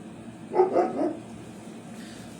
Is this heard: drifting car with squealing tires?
no